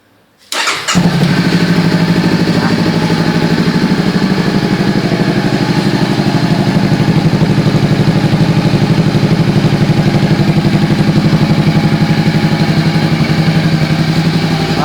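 A Honda CB500X motorcycle with a loud exhaust fires up after a brief silence, then runs at a steady, loud idle close by, with no voices over it.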